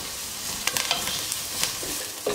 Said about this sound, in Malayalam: ഇനിയിപ്പോൾ നമുക്ക് ഓണിയൻസ് ഒന്ന് മീഡിയം ഫ്ലെയിമിൽ വെച്ച് സോട്ട് ചെയ്തെടുക്കാം.